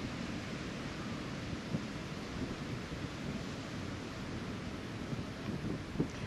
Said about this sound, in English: there is the beautiful Pacific Ocean. Love that sound.